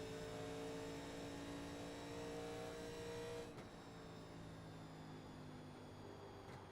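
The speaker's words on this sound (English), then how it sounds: "Car pitting in this time." A race car in the iRacing sim runs at a steady engine whine while pitting, the tone holding for a few seconds before dropping to a lower, quieter drone as it slows, with a faint click near the end.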